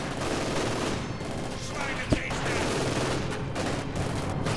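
Dense, continuous small-arms gunfire and battle noise from the World War II strategy game Company of Heroes 2, with a T-34 tank advancing through snow against Grenadiers, loud throughout with one sharp louder crack partway through.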